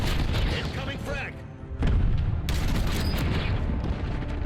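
A frag grenade blast in Black Ops 6 lands amid ongoing gunfire, with a loud broadband boom and rumbling low end after a brief lull, sustained combat noise continuing to the end.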